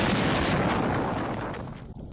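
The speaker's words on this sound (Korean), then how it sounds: "커다란 굉음과 함께 시커먼 연기가 하늘을 뒤덮습니다" A huge container explosion in Iran in news footage gives a loud, broad roaring blast that rumbles on and gradually fades over about two seconds, with no talk.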